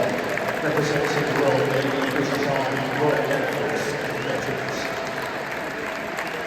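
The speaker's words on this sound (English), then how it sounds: "to receive a lovely round of applause from inside the stadium, including from myself" A stadium crowd at Tottenham Stadium before a Spurs match gives a sustained round of applause, a broad even rumble of clapping from inside the ground that eases off slightly toward the end.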